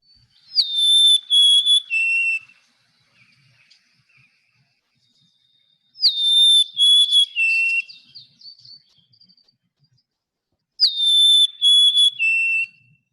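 Three repetitions of a golden-crowned sparrow's clear, plaintive whistled song, each a short descending phrase of a few pure notes, spaced several seconds apart against quiet background.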